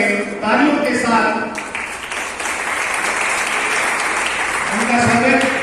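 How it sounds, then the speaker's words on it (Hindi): Audience applause at a Hindi literary evening book launch, a sustained dense burst of clapping filling most of the moment, with a voice speaking before and after it. "तालियों के साथ"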